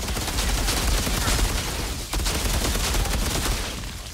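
Sustained gunfire from the shooter game Outriders roars in a dense, continuous burst with a brief dip midway, loud and close, with no one talking over it.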